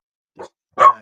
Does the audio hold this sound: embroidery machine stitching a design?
no